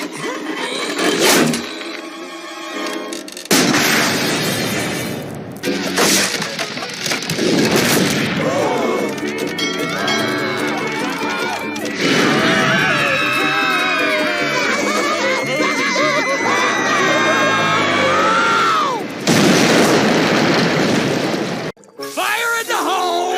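Cartoon explosions from SpongeBob SquarePants strung together, a loud series of booms and blasts separated by short gaps, mixed with character voices, music and sound effects throughout.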